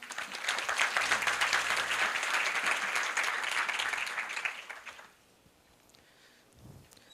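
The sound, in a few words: audience applauding a speaker's welcome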